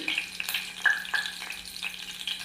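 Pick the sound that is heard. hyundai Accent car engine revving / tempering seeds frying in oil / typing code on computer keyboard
tempering seeds frying in oil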